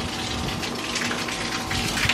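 A garden water hose sprays water in a steady, loud, broadband hiss that runs continuously with no pauses.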